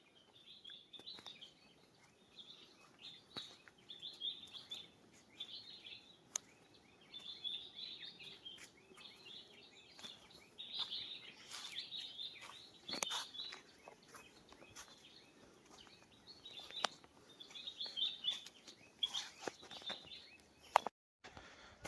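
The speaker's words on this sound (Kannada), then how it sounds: "ಇಲ್ಲಿ ಬರ್ಡ್ ಸೌಂಡ್ ಕೇಳಿಸ್ಕೊಳ್ಳಿ" Small birds chirp in a forest by a waterfall at Pearl Valley near Bengaluru, with faint, repeated high calls coming from a distance over quiet surroundings, plus an occasional louder note.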